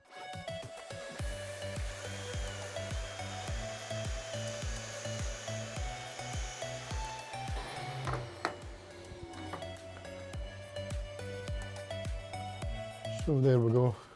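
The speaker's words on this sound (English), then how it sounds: "and then turn on the vacuum cleaner" A vacuum cleaner hums steadily with a regular ticking pulse underneath, then a drill whines up sharply at the end while boring a pocket hole with a Kreg K5 pocket hole jig.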